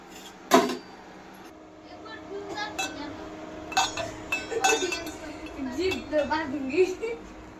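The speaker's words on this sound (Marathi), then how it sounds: "आता चहापत्तीचं झाकण देते" A tea-leaf container lid is set in place in a home kitchen with one sharp metallic clink, followed by lighter clinks and rattles of pots and utensils while someone talks.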